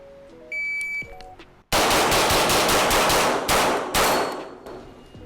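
A JP Enterprises GMR-15 rifle firing fast shots, loud and close: after a few electronic beeps comes a string of sharp reports in quick bursts with ringing decay between them.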